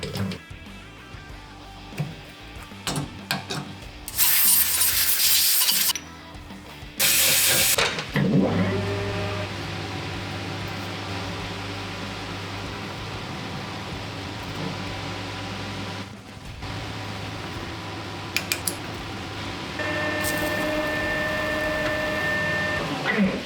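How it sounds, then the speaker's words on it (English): Lathe machining and knurling a high tensile steel squat bar, with loud steady machine hum and whine, bursts of harsh hissing noise from cutting, and shifting tonal drones throughout, with no talk. "now it's actually time to machine the squat bar, get it knurled"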